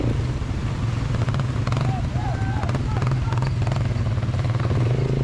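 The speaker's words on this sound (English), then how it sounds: "This ATV ride is so energetic. The road is so bad, sometimes we fall into mud" An ATV with a constant loud engine drone rolls over a rough, muddy road, with rattling and clatter from the bumpy track and people talking over the noise.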